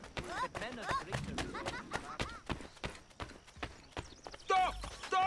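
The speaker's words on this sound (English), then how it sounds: "Oh man, it's a horse chase." Horse hooves gallop in a chase in the video game Assassin's Creed III, fast rhythmic clip-clops under frequent shouting voices, with a neigh or burst of louder sound at the end.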